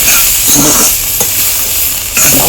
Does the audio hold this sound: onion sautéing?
yes